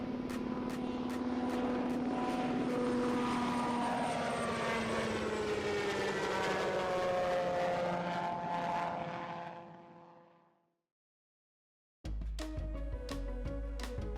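A Sikorsky Boeing SB-1 Defiant compound coaxial rotorcraft flies past, its loud rotor and engine roar sliding downward in pitch as it passes, then fading away to near silence before an abrupt rhythmic burst returns.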